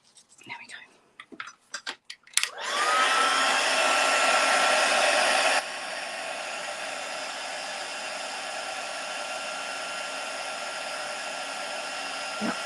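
Small taps and handling clicks come first, then a heat embossing gun switches on with a loud, steady rush of hot air that drops to a slightly lower level and keeps blowing near the mic.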